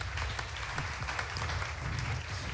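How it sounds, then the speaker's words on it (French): Conference audience at an economics forum on energy and agriculture applauding after an opening talk, a sustained, even round of many hands clapping with no speech over it. "Et on peut déjà applaudir Eric pour cette introduction qui pose les bases"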